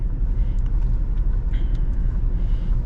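Modified SRT Jeep with its mid muffler deleted, driving: a loud, steady low engine and exhaust rumble drones continuously throughout.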